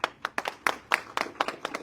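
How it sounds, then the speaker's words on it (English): A small audience at a political event in Buffalo, New York claps in brief, sparse bursts, with individual hand claps clearly separated rather than forming a full roar. "Please give the applause around here."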